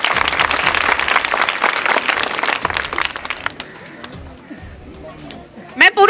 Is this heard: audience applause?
yes